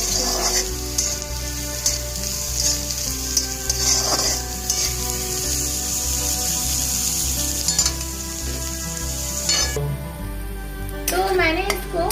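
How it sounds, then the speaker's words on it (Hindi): Capsicum and beans fry in a pan with steady close sizzling, with occasional stirring and utensil scrapes against the pan, and a faint humming background. "इस टाइम पे मैं कैप्सिकम जो लिया था मैंने वो डाल दूंगी और इसको भी थोड़ा सा मैं फ्राई कर लूंगी अच्छे से"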